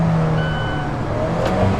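An Alfa Romeo 4C is driven hard into a corner, its engine giving a loud, close droning note with a steady tone and a brief swell near the end.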